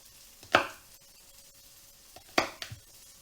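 A knife chops the bottoms off asparagus in two sharp strikes a couple of seconds apart, the second followed by a quick lighter tap, close and clear with no speech.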